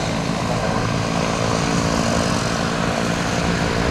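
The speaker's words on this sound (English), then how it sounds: "JetBlue 48 to New York's LaGuardia coming to see us in one right up close and personal." JetBlue airliner passing close on approach to land, a loud, steady engine roar that fills the whole span with no letup and no voices.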